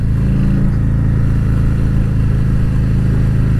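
A Harley-Davidson motorcycle fitted with a Screamin Eagle clutch kit roars loud and close as it accelerates, its engine note a dense, steady low rumble with wind buffeting over it.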